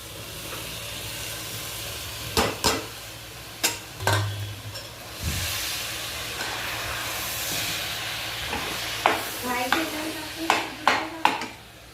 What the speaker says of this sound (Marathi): गुळामध्ये डाळ परतून घ्यायची